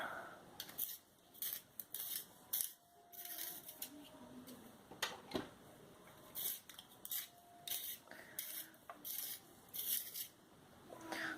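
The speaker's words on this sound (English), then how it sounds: "I'm just going to quickly sharpen them" Orange colored pencils are ground in a studio sharpener, quiet, close scraping and rubbing bursts in an irregular rhythm with short gaps, faint and without speech.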